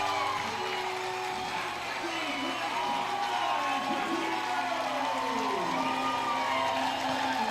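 A baseball crowd at a Kansas City T-Bones versus Canaries season finale roars and cheers steadily after a first-inning home run, with a commentator talking over the sustained noise.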